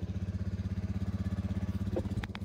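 A motorcycle engine idles close by with an even, rapid chugging pulse, holding steady before a brief rise near the end.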